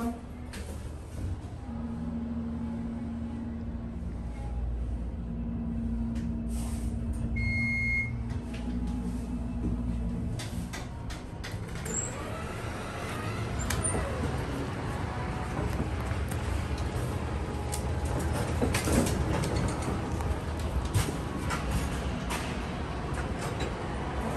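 A Westinghouse hydraulic elevator at a mall hums with a low, steady motor drone throughout, joined by a faint chime and some mechanical clunks, with no talking.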